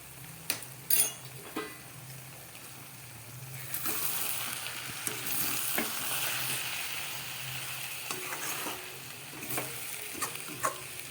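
A spoon gently stirring cabbage cooked with a fish head and fried coriander, cumin and garam masala in a pan, a quiet sizzle under sparse scrapes and knocks against the pan.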